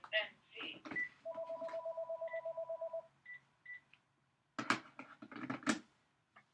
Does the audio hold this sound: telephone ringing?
yes